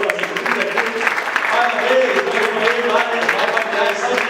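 A live audience claps steadily at a prize-giving show, a dense wash of applause held throughout with a voice talking over it.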